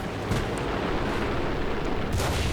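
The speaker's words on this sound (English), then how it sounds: "Another shot in the panther." A heavy, roaring blast rumbles from a tank in War Thunder as its ammunition detonates after a hit, giving a sustained loud explosive rush with short sharp bursts inside it and no voices.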